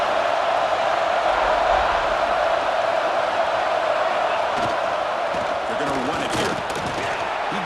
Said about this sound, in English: this crowd coming to life here trying to help the defense